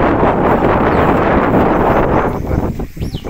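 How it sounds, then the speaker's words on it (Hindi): Cold wind blowing steadily through a garden at night, buffeting the microphone with a loud, continuous rumbling roar that eases and turns gustier toward the end. "हवा चल पड़ी है, ठंडी हवा।"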